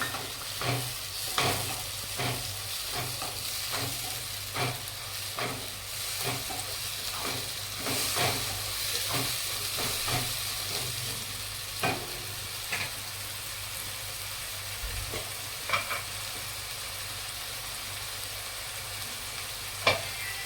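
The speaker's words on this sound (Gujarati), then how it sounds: "હવે આપણે 3 નંગ કટ કરેલા ટામેટાં લીધા છે ઝીણા ચોપરમાં, એ નાખીશું." Chopped tomatoes go into a hot pan with garlic, green chillies and ginger for paneer bhurji. A steady sizzle runs throughout, broken by a long series of sharp clinks and scrapes from stirring that come quickly at first and then thin out.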